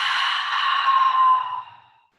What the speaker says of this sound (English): Breathe in. Sound on your exhale.